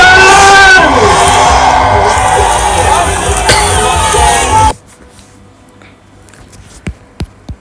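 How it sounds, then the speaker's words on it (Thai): Crowd at a Thai election political rally clapping, cheering and screaming loudly and continuously, with shouts mixed in, then cutting off abruptly into near quiet with a few faint thumps. "ปรบมือสูงสูง ใครมีป้ายขย่าป้าย ใครมีเสียงอินกรี๊ดดัง"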